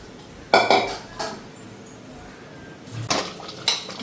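A pot of rice set down on a stove with a few clanks of metal cookware and utensil clinks, separated by quiet gaps, no talk.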